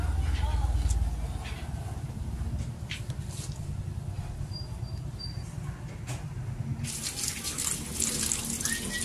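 Running tap water washes small bolinaw fish for ukoy, a steady close rush of water into a sink that roars loudly at first and then settles into a constant splashing flow.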